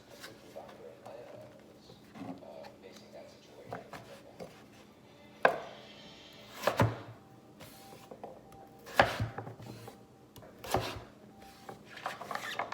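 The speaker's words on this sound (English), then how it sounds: "So I'm taking this and I'm just gonna cut it into" Knife cutting butternut squash into small cubes on a board in a home kitchen, with several sharp, separate chops spaced irregularly among quieter scraping and handling noises, and a voice talking intermittently.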